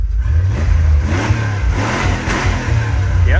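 A built Jeep Grand Cherokee with a 5.9 V8 revs loudly nearby, the engine note rising and falling in short throttle blips over a deep, rumbling idle.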